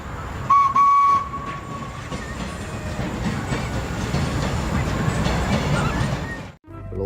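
A Thomas toy train runs with a steady rattling rumble, a brief clear whistle tone near the start, and a sudden stop just before the end.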